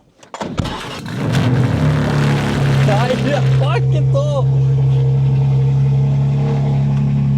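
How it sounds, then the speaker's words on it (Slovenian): A very loud car engine cranks, catches and revs up, then settles into a heavy, rumbling idle close by while a voice speaks briefly over it. "Ne, avto je brutalno glasen, ja."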